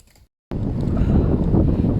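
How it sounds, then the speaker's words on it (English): Strong wind buffets the microphone outdoors on a windy coastal bike ride, a dense low roar that cuts in abruptly after a brief silence and keeps blasting loud and close. "It's really windy, like headwind all the way."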